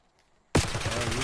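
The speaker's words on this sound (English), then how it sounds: "Don't try me with assault rifle, bro." Assault rifle gunfire in a video game bursts in abruptly after near silence, a loud, close, rapid stream of shots that runs on to the end, with no talk.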